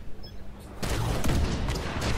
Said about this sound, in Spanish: Quiero mostrarles para que vean el daño que puede hacer la torreta